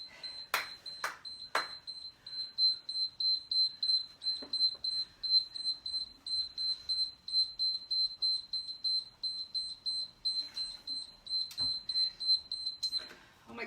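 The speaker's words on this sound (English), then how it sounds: "Oh my gosh, I got a timer." A workout interval timer sounds a steady, rapid series of high electronic beeps for the whole stretch, close and clear, with a few sharp clicks near the start and end.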